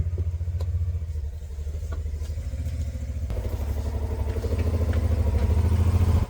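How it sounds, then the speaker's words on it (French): A motorcycle idles and pulls away as its rider heads off for a ride. A steady, low engine rumble with some clatter builds slightly louder toward the end, heard nearby with no talk over it. "Et lui, il part faire un tour de moto."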